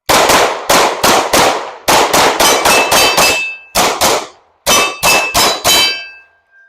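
CZ Shadow 2 and Glock 45 pistols fired in quick strings at steel targets, with sharp close shots each followed by a ringing metallic clang and short pauses between groups, and no voices.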